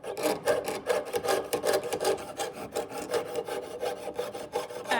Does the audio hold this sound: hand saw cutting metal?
yes